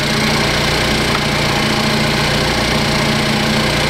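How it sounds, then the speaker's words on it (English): A Cadillac ATS 2.5 engine idles steadily close by, with a constant mechanical drone and fine rapid injector ticking running through it, no voices. "You can hear all the injectors"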